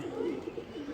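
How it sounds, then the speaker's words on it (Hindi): Pigeons coo softly with low, rolling murmurs. A flock, including a green-coloured bird, is kept at a loft, and the cooing is steady and close with no talk over it. "ये ग्रीन कलर वाला कबूतर देखिए क्या बात खेल रहा है।"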